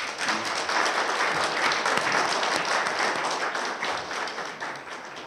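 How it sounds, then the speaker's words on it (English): A crowd at a friendship reception at Queen's Park, Toronto, gives a long round of applause. The clapping is full and sustained and stays steady before easing slightly at the end, with no speech over it. "So please give them a big round of applause."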